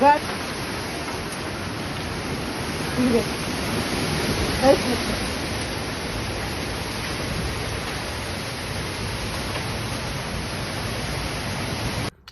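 A hailstorm of heavy rain and strong wind batters a village with a dense, loud, unbroken roar that runs steadily throughout, with a few brief louder bursts near the start.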